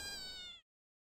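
Cartoon kittens give a single short, high, bright meow with clear harmonics, close and loud, cutting off abruptly after about half a second.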